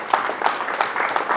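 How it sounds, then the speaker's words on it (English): Brief scattered clapping from a small audience at a leadership coaching session, a handful of distinct claps close by, no speech. "Round of applause."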